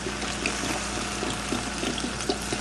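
Bottled water poured into a pot of fish stock for shrimp pasta, a steady splashing, gurgling stream running throughout, close and moderately loud, with no talk.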